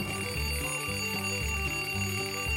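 An alarm clock rings in a prison cell, its bright tone repeating in a quick, regular pattern of bursts at moderate loudness, with no talking.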